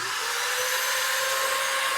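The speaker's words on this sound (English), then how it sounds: "I've done is hooked up my vacuum to the exhaust tailpipe on the blow setting" A household vacuum cleaner set to blow, pushing air into the exhaust tailpipe of a Jeep LJ Rubicon, producing a steady, loud, high-pitched whine and rushing hiss that holds constant throughout.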